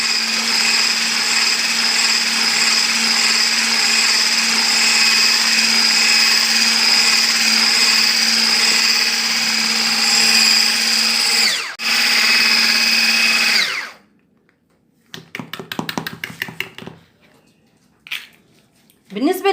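An electric mixer whirs steadily through cake batter of milk and flour, a loud continuous motorized drone that cuts off abruptly, followed by brief clattering bursts near the end.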